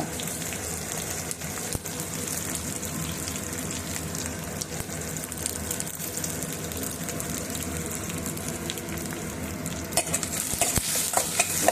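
Chopped large onions sizzle in hot oil with cumin seeds in a pan for a paneer capsicum masala, while a spoon scrapes and stirs them steadily and closely throughout.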